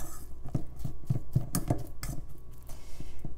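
A fork stirring canned salmon mixture in a bowl, giving a series of light clinking taps and scrapes against the dish at a steady, uneven rhythm, close and moderately loud.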